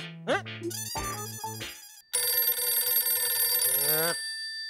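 A mobile phone plays a melodic electronic ringtone in a repeating pattern, loud and close, for about four seconds.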